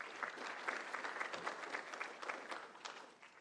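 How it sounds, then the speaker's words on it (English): A small group claps in light, scattered applause for a few seconds, fading slightly toward the end. "Let's give him a little round of applause."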